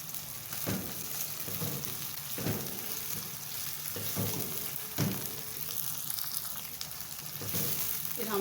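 Three tomatoes added to a frying pan with ginger and garlic for a dhaba style aloo keema, producing a steady close sizzle with occasional stirring scrapes and no talking.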